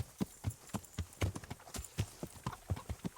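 Horse hooves clip-clop in a steady, brisk rhythm in the medieval game Kingdom Come: Deliverance, each hoof strike close, crisp and distinct, with no other sound competing.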